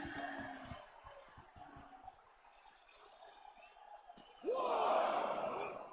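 Arena crowd noise in the WWE 2K24 wrestling video game, a steady roar beneath commentary that swells into a loud cheer near the end as a wrestler rallies the fans.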